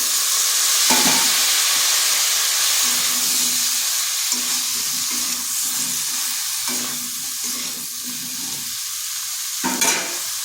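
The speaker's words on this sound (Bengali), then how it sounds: "দিয়ে দিচ্ছি কেটে রাখা ঝিঙ্গাগুলো" Chopped ridge gourd fries loudly with potatoes and spices in a pan, a dense continuous sizzle and steam hiss broken by a few scraping stir strokes, close and without talking.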